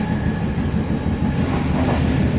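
A train rides on its rails with a constant loud rumble and rattle from the carriage. No one speaks, and the noise stays dense and close throughout.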